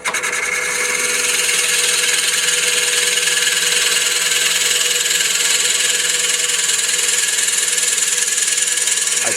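A drill press spinning at around 400 to 500 RPM in a woodturning shop, a steady high whine with a rubbing, cutting hiss that holds evenly and close for the whole stretch, with no one speaking.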